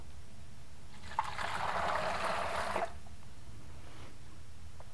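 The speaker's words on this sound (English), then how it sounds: "the first step is going to be to add 1/2 gallon of hot water" Hot water is poured into a container as the first step of making wine from a kit, a brief steady splashing trickle lasting under two seconds, moderately close and alone against quiet room tone.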